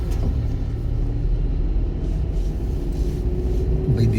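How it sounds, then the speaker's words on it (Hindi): Low, steady car engine rumble held at raised revs during a driving lesson, close and continuous with no voices. "रेस दो, रेस।"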